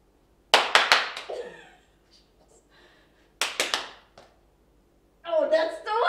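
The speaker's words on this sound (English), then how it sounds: "3 claps." Three sharp hand claps in quick succession during an outdoor throwing-and-catching game, followed after a pause by another burst of three claps, with faint voices and a brief louder voice at the end.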